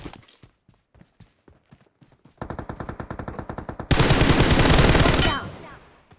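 Rapid automatic gunfire from the mobile battle-royale game PUBG Mobile on the Erangel map: scattered single shots, then a steady burst of repeated fire that swells into a loud, dense volley before cutting off.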